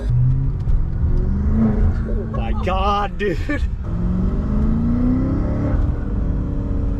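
A big car accelerating hard on a night drive, its engine rising in a sustained roar and whir heard from inside, with people exclaiming excitedly over it.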